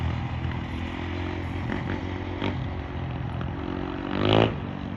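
A motorcycle engine runs steadily at close range, then revs up sharply in one loud, rising burst near the end.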